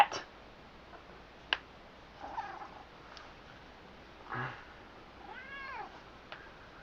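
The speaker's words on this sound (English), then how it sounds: "Cat." A pet cat meows several times indoors, with short separate calls and one longer wavering meow near the end, fairly faint against a quiet room with a few small clicks.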